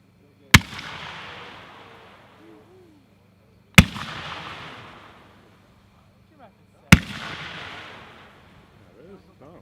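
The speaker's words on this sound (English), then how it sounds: "Number 9 is 50 millimeter variegated go-getter mines by Dominator Pro" Dominator Pro 50 mm variegated go-getter mine fireworks fire in three separate sharp, loud launch bangs a few seconds apart, each followed by a fading crackling tail outdoors.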